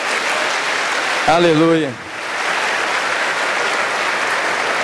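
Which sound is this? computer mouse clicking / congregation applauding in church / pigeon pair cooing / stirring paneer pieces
congregation applauding in church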